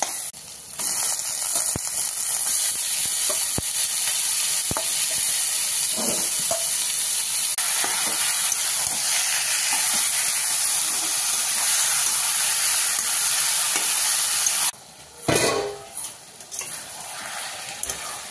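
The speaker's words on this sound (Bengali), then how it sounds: "আরো 10 মিনিট ভাজবো।" Chicken pieces sizzle steadily in a pan with green chillies and spices for a kosha curry, a loud continuous frying hiss with occasional stirring scrapes and a brief drop near the end.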